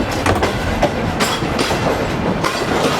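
A train rolls through a railway yard with a steady, close rumble and rhythmic clickety-clack of wheels over rail joints, with no voices.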